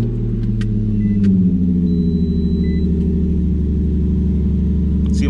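Infiniti G35 coupe engine idling just after a cold start, a steady low rumble that settles slightly after about a second and continues close and loud, with a few faint clicks over it.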